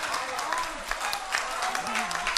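Audience applause at a Punjabi poetry recital, a steady dense wash of clapping from a crowd filling the whole short stretch, with faint voices mixed beneath.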